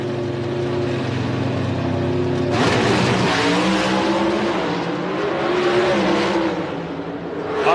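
Drag racing cars roar down the track, engines droning loud and steady before a sharp surge of revving and tire noise as they pass, heavy and close.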